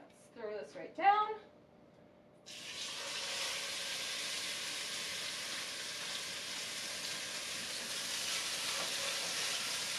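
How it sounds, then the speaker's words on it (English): Brisket drops into a hot pot and starts searing, setting off a steady, fairly faint sizzle that continues unbroken after a brief burst of talk at the start. "So you should really be able to hear that sizzle and see that sear on there."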